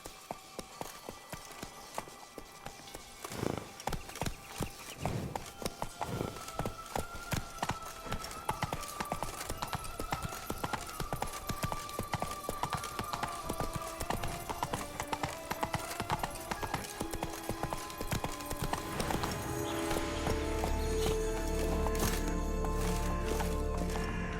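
A horse in The Witcher 3: Wild Hunt gallops with rapid, rhythmic hoofbeats that speed up and continue steadily throughout, close and clear, over quiet background game sound.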